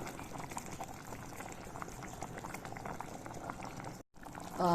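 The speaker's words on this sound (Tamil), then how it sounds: "மீன் குழம்பு நல்லா கொதிச்சிருச்சு" A pot of fish curry in coconut gravy bubbles steadily at a low, even simmer, a soft continuous burble with a brief gap near the end.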